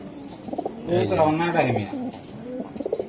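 A Budapest racing pigeon gives a close, throaty cooing phrase lasting about a second, framed by shorter softer calls before and after.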